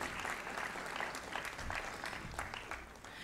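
An audience at an official welcome ceremony gives a short round of applause, soft and fairly distant, steady clapping from many hands without talk.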